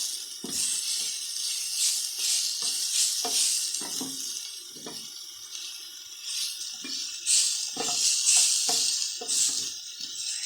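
Vegetables for a macaroni samosa filling sizzle in a hot pan while being stirred, giving steady frying hiss broken by repeated scraping strokes, close and with no talk.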